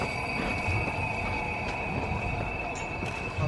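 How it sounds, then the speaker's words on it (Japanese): A small Kurobe Gorge Railway train rumbles along the rails nearby, wheels clattering with a faint high squeal, steady and continuous. "かわいい電車やな。"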